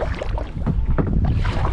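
Wind gusting over a lake while fishing from a boat, a steady loud rushing roar buffeting the microphone throughout, with no talk.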